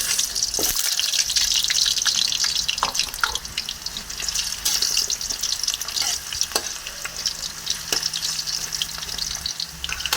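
Potato pieces fry in oil for a chicken kaldereta, a steady close sizzle and crackle with scattered sharper pops, continuous throughout with no talking.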